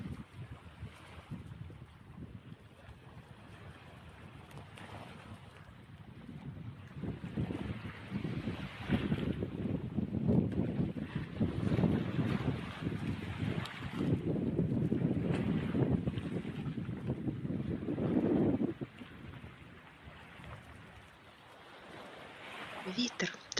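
Steady wind buffets the microphone at the seashore in winter, a low, rushing roar that swells in the middle and eases toward the end, with faint voices underneath.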